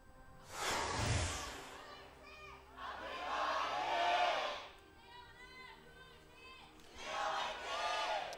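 A crowd at an LCK Spring 2017 esports match cheers and shouts in loud repeated surges, rising and falling in several waves while fainter casters' voices carry between them.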